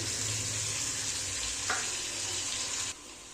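A paste of onion, ginger, cumin, chilli and turmeric fries in a pan with a little water for a Bengali rui fish curry, a close, steady sizzle that drops off sharply near the end.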